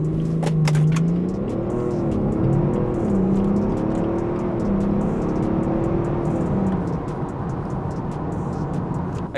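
A BMW 335d with the N57 diesel engine accelerating hard from a standstill, the engine note climbing and dropping through several gear changes, loud and heard from inside the car with no talk.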